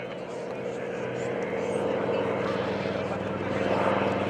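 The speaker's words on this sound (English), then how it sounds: "the heaviest single-engine aircraft of World War II" A Grumman TBM Avenger, the heavy single-engine World War II aircraft, drones steadily overhead at an airshow, its propeller engine a continuous low rumble with a voice talking over it.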